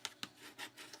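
A cut paper piece is burnished by hand for a paper backpack craft, giving quiet short rubbing strokes, a few brisk swipes in quick succession, close and soft with no talking.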